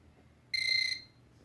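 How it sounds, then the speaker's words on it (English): A home fire alarm gives one loud, shrill electronic beep lasting about half a second, sharp and close against a quiet room, then stops. "Here's my haunted fire alarm."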